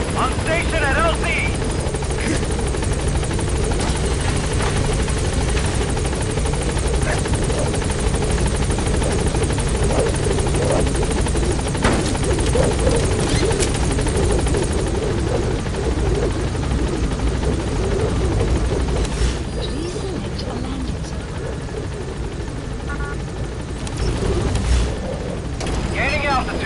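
Support helicopter in Metal Gear Solid V arriving at a landing zone: a loud, steady rotor and turbine roar fills the whole stretch, with brief muffled voices over it.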